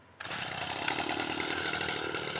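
A Stihl FS 45 string trimmer's two-stroke engine bursts to life and then runs at a steady, loud, high-pitched buzz close by.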